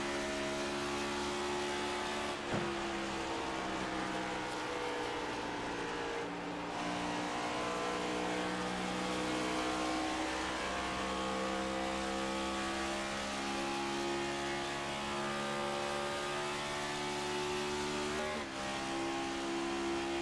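A race car engine at Pocono, held at a steady high-pitched drone with throttle changes and a couple of quick downshifts where the pitch jumps, loud and continuous the whole time with no talking.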